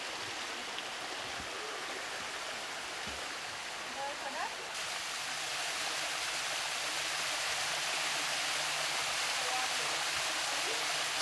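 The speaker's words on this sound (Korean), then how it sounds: "슬로바키아 라이에는 이런 크고 작은 폭포가 수십여 개 있다고 한다." A waterfall in Slovak Paradise, Slovakia, gives a steady hiss of falling water that swells noticeably louder partway through, as if heard from closer.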